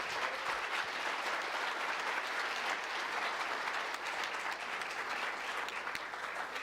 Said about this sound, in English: Can I have a round of applause for this team?